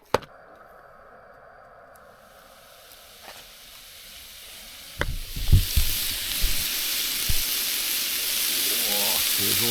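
Pork sizzles in a frying pan on a camping stove in a van. A soft hiss builds into a bright, steady crackle, broken by a few clanks of the pan and food being moved around.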